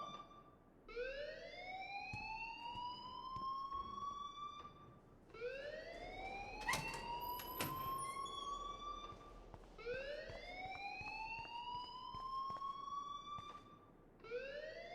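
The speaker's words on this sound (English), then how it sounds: "please turn off that alarm since that's your job" An alarm in the Life is Strange video game wails in three rising, swooping siren cycles that repeat steadily, loud and continuous over a faint background hum.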